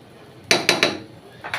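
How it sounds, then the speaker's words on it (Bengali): Chicken biryani is gently stirred in a cooking pot, giving several sharp scraping clinks of a spoon against the metal, a quick cluster of three followed by one more after a pause. "খুব আলতো করে একটু নেড়ে চেড়ে দিতে হবে।"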